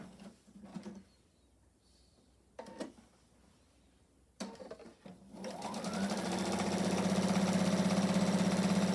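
A sewing machine stitching a garment sample, a few short thumps and handling noises at first, then the motor starts and runs in a steady, loud, rapid whirring stitch rhythm up close.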